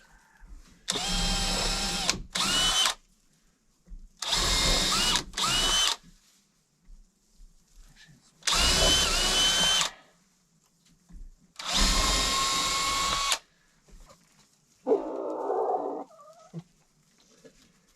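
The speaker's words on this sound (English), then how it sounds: "So I'm gonna pre-drill these because I was saying before, this is pretty soft wood." Several loud bursts of a power drill whirring in short runs as it pre-drills soft wood, separated by quiet pauses, with a brief softer mechanical sound near the end.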